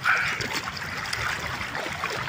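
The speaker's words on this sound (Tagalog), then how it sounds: "Yan ang ating ilog." River water flows in a rural province, a continuous rushing trickle heard close by, with no talk.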